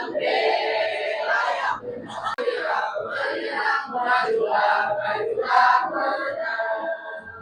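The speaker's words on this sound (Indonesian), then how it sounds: "selanjutnya kita akan bernyanyi bersama ya, menyanyikan lagu Maju Tak Gentar" A classroom group of students sings the Indonesian patriotic song Maju Tak Gentar together, loud and close. Several voices blend into a strong chorus with brief pauses between phrases.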